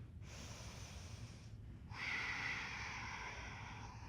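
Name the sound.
breathing during yoga mountain pose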